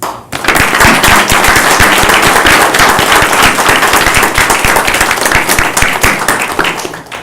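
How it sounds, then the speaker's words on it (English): Loud, dense applause from an audience at a county board of commissioners meeting, honoring library system staff, sustained evenly for about seven seconds without a break. "I think they deserve a round of applause."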